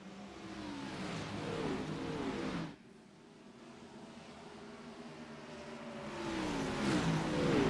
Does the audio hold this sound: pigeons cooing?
no